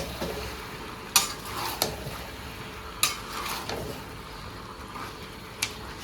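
Salted duck curry is stirred in a frying pan, with sharp spoon clacks against the metal at irregular intervals over a soft, steady sizzle.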